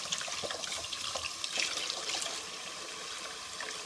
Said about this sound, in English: We're going to rinse off the cube steaks.